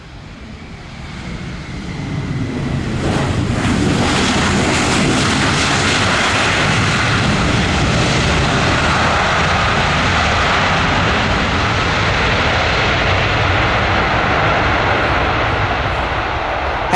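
A Boeing 737 lands on runway 07L at Tan Son Nhat airport, its engine roar swelling within seconds into a loud, broad, sustained rumble that holds steady close by, with no voices.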